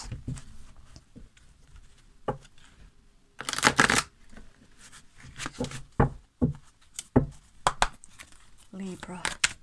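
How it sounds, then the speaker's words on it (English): Tarot cards being shuffled by hand, a run of crisp riffling bursts and soft slaps that come and go close to the microphone, with a strong flurry near the middle and quieter rustles between. "some viewers like to see just a little card shuffle on camera as well"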